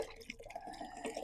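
A small solar-powered fountain pump in a garden water feature bubbles and gurgles softly and steadily, a faint close trickle with no talk over it.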